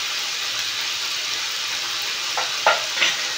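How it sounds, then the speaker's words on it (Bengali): Kochu shak (taro leaves) being stirred in a pan, a steady soft sizzle and hiss with a few louder scraping clinks of the spoon near the end, no talking. "ভালো করে নাড়িয়ে নেব।"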